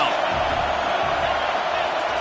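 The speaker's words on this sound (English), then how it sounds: "Decibels rising as the crowd gets behind this defense on 3rd down." Loud, steady roar of a packed football stadium crowd building on a third-down defensive stand, a dense wash of cheering and shouting that holds throughout with no clear breaks.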